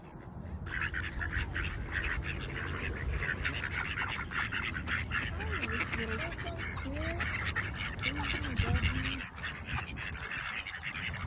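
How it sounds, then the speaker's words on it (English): Ducks and geese at a pond call in a scattered run of quacks and honks over a steady outdoor wash. The birds sound fairly close and overlap one another, with voices now and then in the background. "You guys, there's a duck pond."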